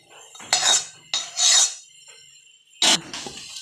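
Jaggery syrup being stirred into wheat flour for churma laddoos: three close, gritty scraping strokes of a spoon against a bowl, separated by short pauses.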